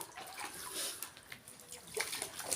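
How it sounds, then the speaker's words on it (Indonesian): Water is poured for rinsing, a steady splashing pour with a few brief louder surges, close by and alone without speech. "Lalu dengan air siram."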